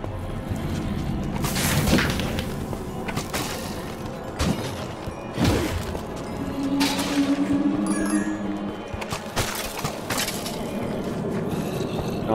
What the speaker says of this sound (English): it is a massive explosion going off in your face